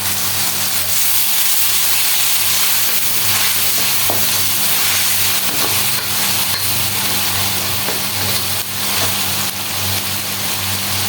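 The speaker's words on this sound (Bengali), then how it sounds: "মাছ ভাজের তেল দিয়ে রান্না করতেছি আমি।" Ginger sizzles steadily in leftover oil from frying hilsa fish, a continuous close frying hiss with a low steady hum underneath and no voices.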